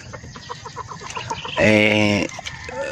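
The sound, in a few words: chicks peeping on a farm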